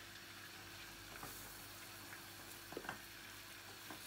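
Butter melts in a pan with a faint, steady sizzle and soft crackle, broken by a few light pops and clinks.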